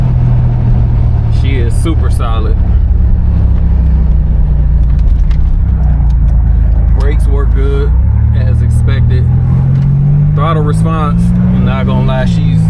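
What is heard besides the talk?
1987 Buick Grand National turbo engine accelerating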